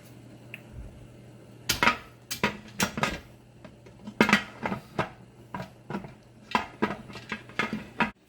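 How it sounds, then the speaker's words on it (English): Metal lid of a pressure canner being wrestled onto the pot, a series of irregular clanks, scrapes and rattles of metal on metal at close range, coming in bursts. "wrestled with the lid for a minute"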